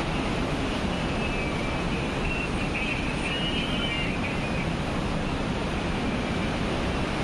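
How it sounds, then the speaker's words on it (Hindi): Rushing water where the Alaknanda and Dhauli rivers meet at Vishnuprayag, a loud, steady broadband roar that fills the whole stretch without a break. "कि यहाँ पर 2 नदियों का संगम है। एक नदी ये आ रही है इधर से और एक पली तरफ से आ रही है मंदिर के नीचे से।"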